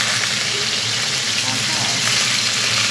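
Chicken pieces frying in a pan, a loud, dense, close sizzle and spatter that roars steadily throughout without a break.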